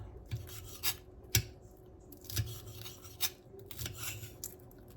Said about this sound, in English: gonna cut these as thin as I can